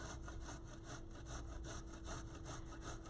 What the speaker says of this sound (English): So I'm going to just use my grater here